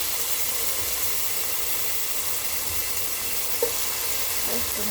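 Fresh tomato sizzles and fries in a pan while being stirred, a steady bright hiss throughout with a couple of faint utensil scrapes.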